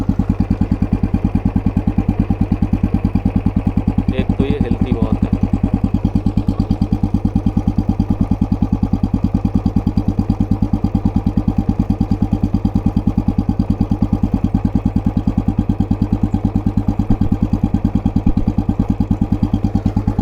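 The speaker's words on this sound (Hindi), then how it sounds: "अब देखो फर्स्ट गियर की आवाज़ बताऊँ, ये बस इतनी रहती है ना।" A Royal Enfield Bullet motorcycle engine running in first gear, a loud steady close thump with even rapid beats that never changes, and no talk over it.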